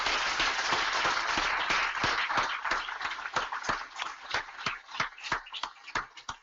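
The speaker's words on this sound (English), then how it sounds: "Can we give him a big round of applause?" An audience applauds a speaker at a talk on entrepreneurship, a full burst of clapping that thins into sparse, distinct claps before fading out.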